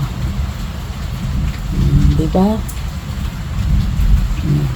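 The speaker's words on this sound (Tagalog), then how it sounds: "Ay, kusog kayong ulan." Heavy rain pours steadily in a broad, loud hiss throughout, while a voice speaks briefly over it in the middle.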